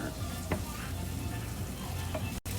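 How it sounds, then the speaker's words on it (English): A pan sautéing a base for shakshouka sizzles steadily and close, with a soft scrape or stir now and then and no talking. "Let's saute this for another 1 to 2 minutes."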